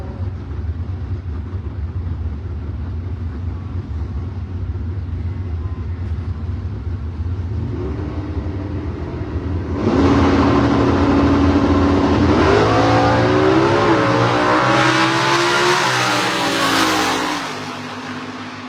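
Two drag cars launch and scream down the strip, a 2019 COPO Camaro and a 2014 Mustang, their engines rising from a steady idle into a loud, climbing roar of revving and shifting that fades slightly near the end.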